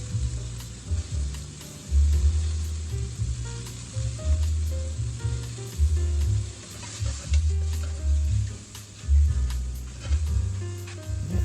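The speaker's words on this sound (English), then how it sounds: "this shiitake mushrooms have a fantastic fragrance, especially when you're sauteing them in some oil like this" Shiitake mushrooms sauté in hot oil in a pan, giving a steady close sizzle that swells and eases as they are tossed and stirred, with no talk.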